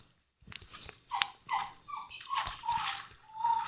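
A pet dog in the video game Minecraft gives a short run of high whimpering yips and barks, about six quick calls in an uneven rhythm, close and clear with no talking.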